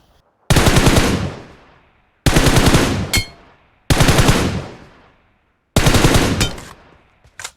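M4 rifle gunfire in the video game PUBG Mobile, four loud, close bursts of rapid automatic shots, each lasting about a second and separated by short silences.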